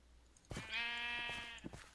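A single sheep bleat from the Minecraft video game, one drawn-out wavering baa lasting about a second, clear and close with little else around it.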